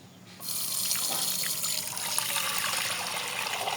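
Milk being poured into a bowl for setting homemade yogurt, a steady liquid splashing and trickling stream that starts abruptly and runs continuously, close and fairly loud, with no talk.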